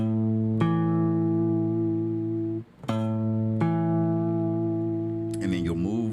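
Guitar chord played on the 6th and 5th strings, struck three times and left ringing, sliding to a new position between strums, with a brief warbling shift in the final second.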